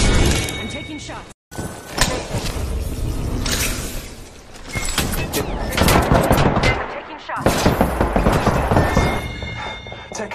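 Rapid bursts of gunfire in the Apex Legends video game, with repeated sharp shots and rattling volleys in close succession while voices talk over the action.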